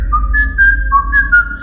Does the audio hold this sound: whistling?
yes